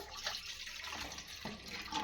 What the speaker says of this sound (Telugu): ఇప్పుడైతే నీళ్ళు అయితే వేసేసుకుంటున్నాను